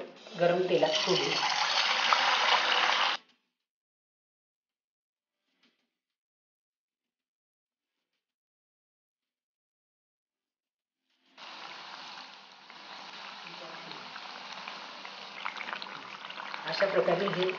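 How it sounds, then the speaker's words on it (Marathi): Sabudana vada (sago patties) slid into hot oil sizzle in a broad, hissing crackle over low flame, loud and close, in two bursts separated by several seconds of silence. "आता थापलेला वडा आपण गरम तेलात सोडू।"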